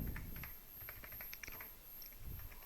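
Keys tapped on a computer keyboard while entering a simple print command into a Python shell, a quiet, irregular run of light clicks across the clip.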